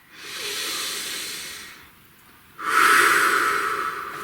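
A single slow, deep breath, a long airy inhale followed by a brief pause and then a louder, hissing exhale, close and alone with no talking.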